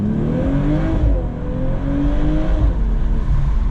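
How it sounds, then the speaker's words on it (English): BMW M440i Gran Coupe, 2022, with a B58 engine, heard from inside with the windows down: a loud, steady exhaust drone with rising and falling revs and rough crackling texture throughout, no talk. "Crackly pop out the rear."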